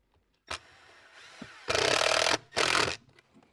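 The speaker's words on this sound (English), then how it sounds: "I'll just put number two screw in." A screw is driven in with a power tool while a charger is mounted in a wheelchair van, heard as a sharp click followed by two loud, close whirring bursts separated by a short pause.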